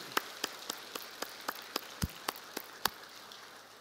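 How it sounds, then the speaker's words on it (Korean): A church congregation claps in a steady, sparse rhythm during a Sunday worship service, about a dozen distinct claps, faint and somewhat distant. "영광의 박수부터 한번 합시다"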